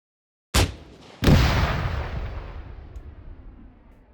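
In ArmA 3, an M136 launcher fires a high-penetration warhead with a sharp report, followed half a second later by a louder blast as it strikes a vehicle, then a long rumbling decay.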